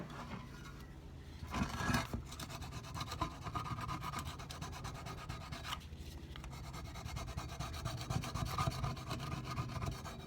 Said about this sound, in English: use brake clean again and the same plastic scraper to scrape off the gasket around this edge